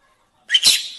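A parrot imitates a human sneeze, one short sharp burst arriving after a silent lead-in and trailing off briefly, close and fairly loud.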